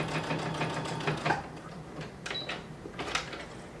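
A sewing machine basting a seam along the bottom of jeans fabric, running in a steady close whir with a few short pauses and clicks.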